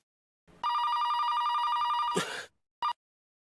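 An incoming call sets a telephone bell ringing steadily for about two seconds. A brief noisy burst follows, then one short final ring, loud and close in an otherwise quiet room.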